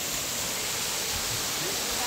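A waterfall on a hillside trail, heard as a steady, even rush of falling water filling the background without breaks.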